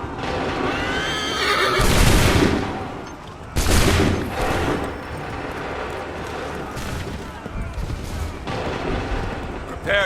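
Musket volleys in Assassin's Creed 3 at the Lexington and Concord battle: two loud, broad blasts a couple of seconds apart, with horses neighing and hooves clopping through a noisy battlefield din.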